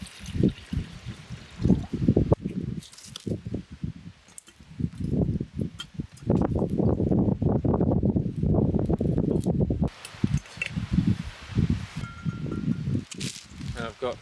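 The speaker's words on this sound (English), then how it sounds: "Just going to get some water boiling for some noodles." Water pours into a pot at a wild camp in rain, in splashing bursts with a long steady stream in the middle, close up, with rustling in between.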